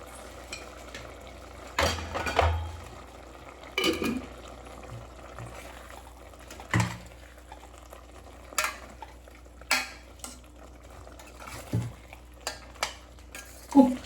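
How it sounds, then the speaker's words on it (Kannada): Salted vegetables fry in a pan with a steady sizzle, broken by repeated scraping stirs of a utensil against the metal. "ಉಪ್ಪು ಹಾಕಿದಾಗ ಇನ್ನೂ ತರಕಾರಿ ಎಲ್ಲ ಚೆನ್ನಾಗಿ ಫ್ರೈ ಆಗುತ್ತೆ ಗೈಸ್"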